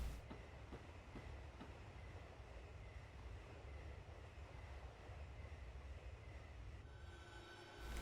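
A long, heavy train with several locomotives, including E-64 electrics, rumbles steadily along the rails at a distance, with faint rhythmic clicks of wheels over joints in a continuous low roar.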